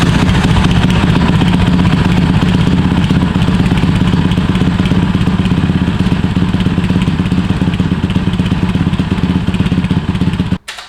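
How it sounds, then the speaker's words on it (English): Honda CT70 motorcycle with an aftermarket exhaust idling cold, a loud, close, steady putter that runs evenly before cutting off abruptly at the end. "I'll try it at idle first and see what type of sound we're getting"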